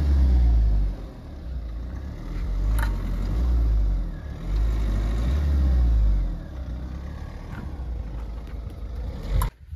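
A Mahindra XUV300 stuck in deep sand revs its engine in repeated surging bursts, the low loud drone rising and falling several times with brief lulls between, near and with no talk.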